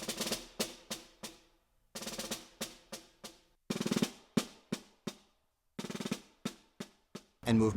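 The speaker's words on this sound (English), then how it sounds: "after the magic happens, then Movement 3 sounds like this." Percussion playing the third movement of Rimsky-Korsakov's Scheherazade, self-recorded after practice: repeated sharp struck hits in short rhythmic bursts separated by brief pauses, close and clear with ringing decay, ending in a louder roll-like passage.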